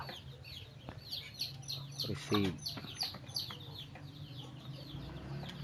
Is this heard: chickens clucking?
yes